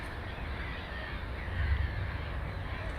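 Gulls call faintly amid a steady wash of outdoor noise, a brief harsh cry standing out slightly from the constant background rumble.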